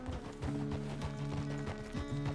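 Horse hooves clip-clop at a steady walking pace in the Red Dead Redemption 2 video game, close and distinct against a low background, with no talk.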